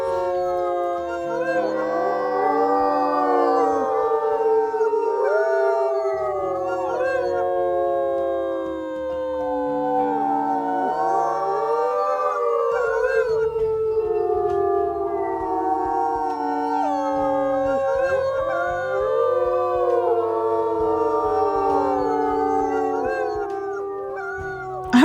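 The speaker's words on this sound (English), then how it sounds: "I'm trying to catch some howls." Wolves in the Wolfquest video game howl together in a loud, sustained chorus of overlapping gliding tones, rising and falling in waves with brief lulls, close and without speech.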